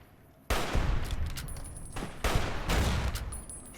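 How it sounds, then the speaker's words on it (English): Hunting rifle gunfire in the video game Fallout New Vegas: two loud, sharp shot bursts about two seconds apart, each trailing into a rumbling echo, with no talking. "I'm gonna use the hunting rifle, because we need some more punch."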